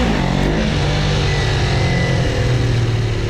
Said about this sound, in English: I'm also just holding the clutch, revving it up, and then just dumping the clutch